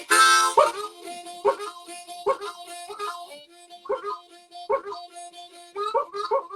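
A harmonica played to imitate a dog's barking and whimpering, giving a series of short, sharp, reedy bursts in a loose repeating rhythm, close and clear with no talk.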